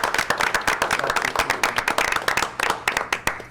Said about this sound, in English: I don't know if a round of applause is in.